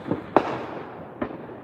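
Fourth of July fireworks go off nearby as heard from a front porch: three sharp bangs, the middle one loudest, each followed by a brief rumbling tail, with no talking.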